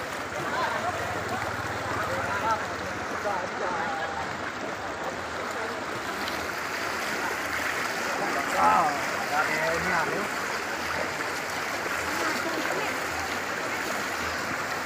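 Strong rushing floodwater near a bridge during the 2024 flood in Sosok, a constant broad roar and churn filling the background while people talk over it.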